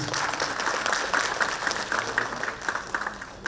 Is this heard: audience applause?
yes